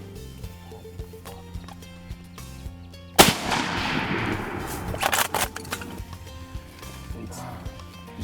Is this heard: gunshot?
yes